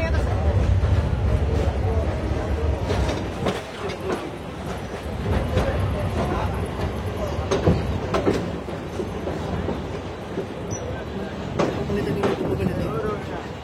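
Narayanganj commuter train pulling out of the station, a steady loud rumble of rolling carriages with faint wheel clatter and voices mixed in throughout.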